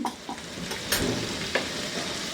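Chicken stir-frying in a pan with chili powder, black pepper powder, coriander powder and salt, a steady close sizzle with a few scraping stir strokes, no talking.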